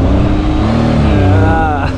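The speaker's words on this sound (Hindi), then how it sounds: "भाई गाड़ी फंस गया अपना, छोटा है ना" A small car's engine revs loudly while the car is stuck, a close, sustained drone that rises in pitch toward the end, with someone talking over it.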